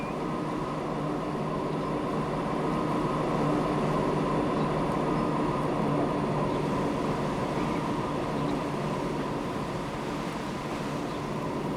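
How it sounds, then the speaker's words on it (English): A continuous, even rumble of a train running in the video game Transport Fever 2, with a steady mechanical drone and rolling noise that holds unchanged throughout. "Yep, here's our train."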